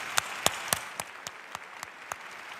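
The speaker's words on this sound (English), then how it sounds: "And yes, applaud to everyone here." Audience clapping at a policy conference's morning session comes as sparse, evenly spaced sharp claps, fairly faint and with no voices.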